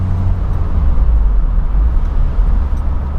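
A Peugeot 205 CTi accelerating, a low, steady engine rumble heard from inside the car with road noise, loud and continuous without much change in pitch.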